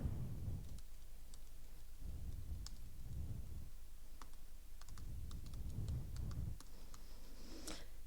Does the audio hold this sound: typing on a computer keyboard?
yes